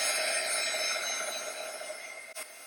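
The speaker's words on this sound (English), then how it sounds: "feel free to just listen to the sound of the lovely blow dryer" Steady whirring blow dryer drone drying watercolor paper, with a high airy hiss, running continuously at close range and easing slightly softer toward the end.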